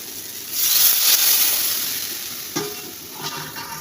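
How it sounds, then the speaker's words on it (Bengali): Fried lentils are stirred in a pan just after water is added, giving a near, steady sizzle with scraping strokes and a couple of sharper knocks, and no one speaks. "জল দিয়ে নাড়াচাড়া করে দেবো আমি জল দিয়ে দিয়েছি"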